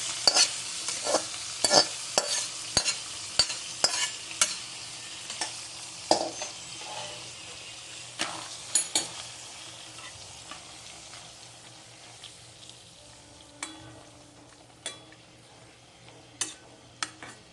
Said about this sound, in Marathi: काजू बदाम आपले इथे छान असे मस्त हलकेशा सोनेरी रंगावर परतून झालेले आहेत